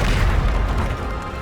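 The Bombarda spell explodes in Hogwarts Legacy as a loud, close, rumbling boom that fills the short moment with heavy, broad blast noise and a low tail.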